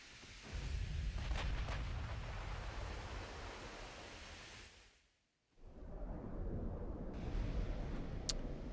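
Naval gunfire during a North Carolina versus Bismarck battle in Ultimate Admiral Dreadnoughts, heard as a broad rumbling roar of shells and sea noise that drops briefly to near silence before swelling again, with a few sharp high clicks.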